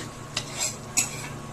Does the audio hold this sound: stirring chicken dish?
yes